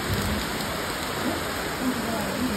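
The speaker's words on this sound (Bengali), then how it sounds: "আর বিশাল জোর বৃষ্টি নেমেছে আজকে" Heavy rain pours down in a steady dense hiss, loud and close, with no break over the short stretch and only faint traces of sound beneath it.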